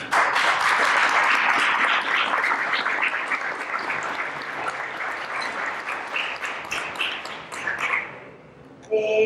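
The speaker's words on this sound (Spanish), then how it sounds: "Vamos a darle un aplauso, por favor." An audience at a poetry book presentation gives a poet sustained applause, dense and loud clapping that thins out and stops near the end.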